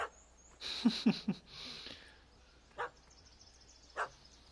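A dog in The Witcher 3 video game barks in a quick burst of three sharp yelps, then two more isolated barks follow after pauses, fairly faint against a quiet game backdrop.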